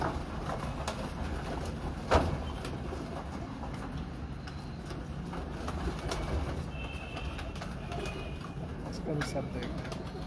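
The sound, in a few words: breeder pigeons cooing in a loft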